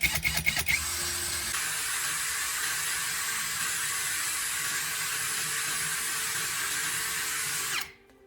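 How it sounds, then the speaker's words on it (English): A power drill spinning gauze into a wick whirs steadily for several seconds after a few quick clicks and taps, close and continuous, then winds down and stops. "Clamp one end of the gauze into the drill chuck and slowly spin it to twist the fibers together."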